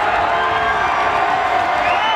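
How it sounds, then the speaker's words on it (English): A wrestling arena crowd cheering and shouting loudly after a tag team title win at a TNA event, a dense, sustained roar with scattered whoops. "You can see the crowd going crazy."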